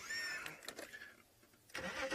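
A safari game drive vehicle's engine cranks and catches in the bush, a brief mid-pitched rumble that dips and then swells again, moderately close with no talk.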